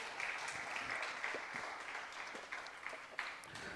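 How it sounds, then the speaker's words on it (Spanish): Applause from a church audience during a sermon, a soft, steady patter of clapping that sounds somewhat distant and faint throughout, with a few sharper claps standing out. "Dale un aplauso a Jesús"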